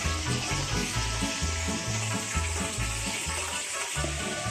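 Chicken breast frying in a pan, giving a steady, continuous sizzle with a rhythmic low thumping underneath throughout.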